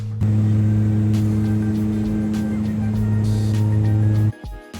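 Steady, loud drone of a Jetstream 32 turboprop heard from inside the cabin, with strong low engine and propeller tones running continuously before cutting down sharply near the end.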